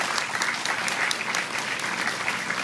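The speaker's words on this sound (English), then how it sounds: "I want you to join me in giving them the loudest round of applause that you can give them here this evening" A full, loud audience applauds the actors of an Indian Arrival reenactment staged by Irie Production. Dense, continuous clapping fills the whole short stretch with no pauses.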